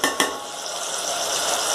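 Spices are stirred into a cluster bean sabzi with tomato paste in a pan: two sharp utensil clinks open, then a steady close sizzle and scraping continue without talk.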